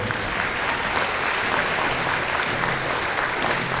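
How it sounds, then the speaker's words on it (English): A crowd at a scholarship presentation claps steadily throughout, a full, even wash of applause with no one speaking over it. "Let's give her just a round of applause there."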